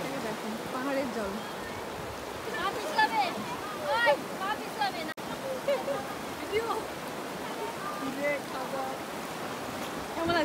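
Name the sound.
Torsa river stream flowing in Bhutan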